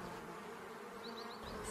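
Honeybees buzz steadily around an octagonal refuge hive in early spring, a continuous close insect hum with no voices.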